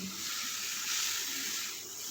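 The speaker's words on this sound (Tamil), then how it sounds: "இப்போ வந்து நம்ம ரெண்டு கப்பு வந்து சுகர் சேர்த்துக்கிட்டோம் அதோட முக்கால் கப்பு வந்து தண்ணி" Water trickles and hisses as it is poured onto sugar in a pan while Mysore pak is being made. The pour is soft and continuous, with a faint sizzling quality throughout.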